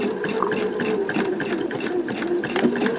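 A sewing machine back stitching a quilt piece runs steadily at close range, its rapid regular needle clatter continuous throughout with a faint voice underneath.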